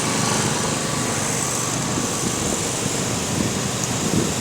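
A large generator runs in a steady, loud drone with a broad roar and a faint hum, holding unchanged throughout with no talk.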